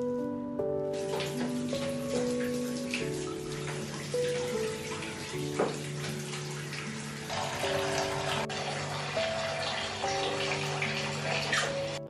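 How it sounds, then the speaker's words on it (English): A tap runs into a bathtub with a steady, close splashing rush, water filling the tub continuously under soft background music. "Next, it's time to run my bath"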